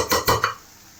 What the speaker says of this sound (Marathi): याच्यात मी पूर्ण भाज्या आता मिक्स करू थोडा वेळ याला होऊ देते